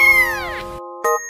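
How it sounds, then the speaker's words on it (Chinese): A small kitten gives one long, clear meow that slides downward in pitch, then a brief pause before a second short, sharp mew, both close and loud. "点点全网最治愈的小奶猫"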